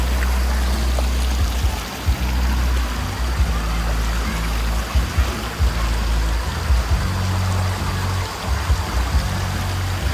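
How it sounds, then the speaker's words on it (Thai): Cool natural water gushes and flows steadily along a roadside spot in Thailand, a loud, continuous rushing stream with a low rumble underneath and a few faint bumps through it. "น้ำไหลพุ่นนะ"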